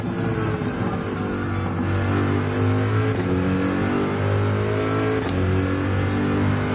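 Car engine revving and holding steady in Gran Turismo 7, a racing game, with a continuous loud drone of shifting pitch running the whole time and no voices.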